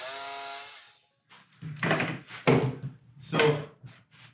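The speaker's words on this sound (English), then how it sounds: "Here I'm using a jigsaw to notch the front and back panels for the 2x4 rafters" A jigsaw notching plywood front and back panels for 2x4 rafters while building an elevated octagonal box blind, heard as several short bursts of cutting after a brief whine at the start, with no talk.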